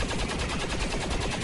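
Rapid gunfire from overwatch reaction shots in the XCOM 2 War of the Chosen video game, a dense continuous burst of loud shots filling the whole moment.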